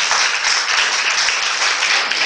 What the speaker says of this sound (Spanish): Un aplauso para los poetas.